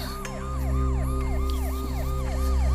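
A loud, close ambulance siren wails in rapid repeating up-and-down cycles over a low engine rumble, continuous throughout.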